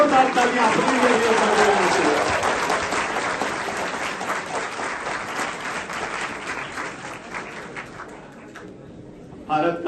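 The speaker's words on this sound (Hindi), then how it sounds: "तो जरा जोरदार तालियां अपने लिए।" Loud, sustained applause from a large crowd of young first-time voters at a political youth convention in Lucknow, filling nearly ten seconds and slowly thinning toward the end.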